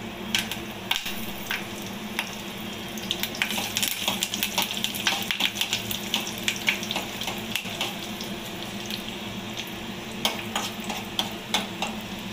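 Garlic and curry leaves fry in hot oil with a soft, steady sizzle, punctuated by frequent clinks and scrapes of a spoon stirring against the pan; no one talks.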